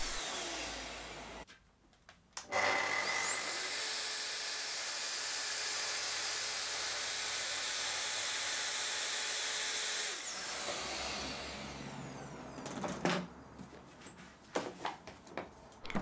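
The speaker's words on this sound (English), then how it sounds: "so I'm going to opt for using the track saw instead" A track saw cutting through a workpiece, a loud, steady high whine of about eight seconds with spin-up and wind-down, followed by a few knocks and handling noises.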